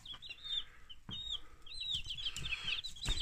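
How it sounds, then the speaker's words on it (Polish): A Pavlovskaya hen clucks close by in a run of short, repeated clucks, fairly faint, with some rustling and no speech. "Tu mamy kurę"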